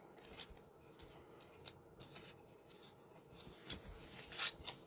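Scissors snipping through material in a quiet room, several short crisp cuts spread irregularly across the stretch, faint and close.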